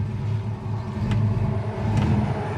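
A 1972 Chevrolet Monte Carlo with its numbers-matching motor and transmission, engine rumbling and rising in revs as it is taken through the gears, a steady low drone with two brief shifts.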